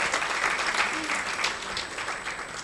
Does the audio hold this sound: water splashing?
no